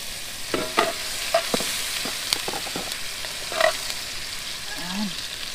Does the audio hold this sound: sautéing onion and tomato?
yes